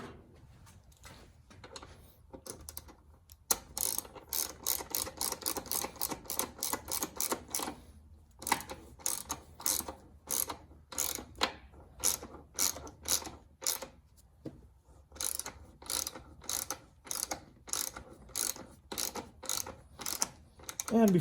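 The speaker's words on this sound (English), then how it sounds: "And then I'm going to tighten this side a little bit here." Ratchet wrench clicking rapidly while tightening bolts on a Tusk rear rack fitted to a Suzuki DR650 motorcycle, repeated bursts of sharp ratcheting with brief pauses between strokes, close and alone.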